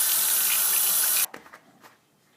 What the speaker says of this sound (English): And then of course I'm going to rinse off my stirring rod.